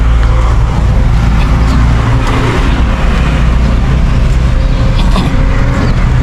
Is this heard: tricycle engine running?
yes